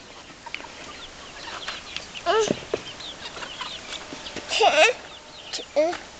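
Chickens cluck and squawk at feeding time in a backyard coop, bursts coming every second or two near and loud against a steady outdoor background, with a few voices speaking between them.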